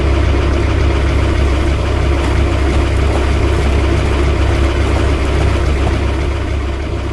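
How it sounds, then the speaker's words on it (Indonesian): A green tractor's engine rumbles in an animation, a loud, steady low drone running without pause as the vehicle drives along at a relaxed pace. "Traktor hijau berjalan dengan kecepatan yang santai"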